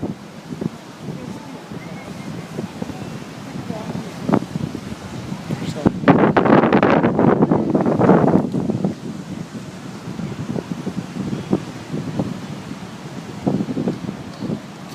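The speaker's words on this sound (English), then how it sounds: "It's quite windy today." Strong wind gusts buffet the microphone on a beach, a rough, fluttering roar that surges loudly in the middle and eases to choppy bursts, with people talking faintly underneath.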